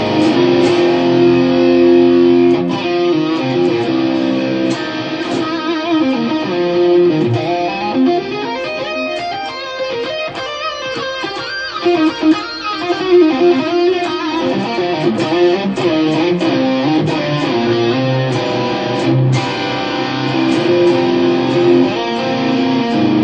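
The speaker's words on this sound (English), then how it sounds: "Very moderate delay and reverb." An electric guitar played through a Quad Cortex plays a sustained, mildly overdriven melody with moderate echoing delay and spacious reverb trailing each note, continuous and fairly loud.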